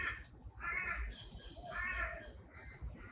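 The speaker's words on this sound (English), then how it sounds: "You can definitely hear the birds." Crows caw outdoors in two or three harsh, repeated bursts, fairly close and clear over a steady low background hum.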